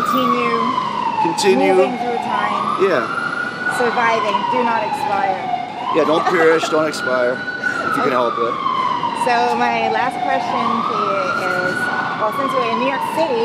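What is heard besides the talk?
emergency vehicle siren in New York City street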